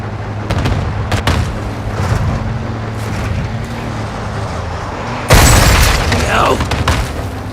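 An APC opens fire in Call of Duty: Modern Warfare II, with repeated heavy booms and gunfire rumbling over battlefield noise, then a loud, harsh blast erupts about two-thirds through and keeps roaring to the end.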